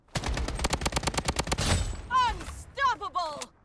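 Rapid automatic AK47 fire in the video game Blood Strike: about a dozen evenly spaced loud shots over one and a half seconds, followed by a few bright chirping game effects.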